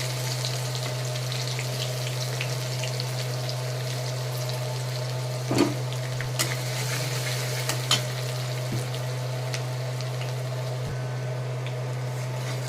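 Chopped onion fries in hot oil with dried chilli, cardamom and bay leaf while chicken kosha is being cooked, a steady close sizzle with occasional sharp clicks and scrapes of stirring.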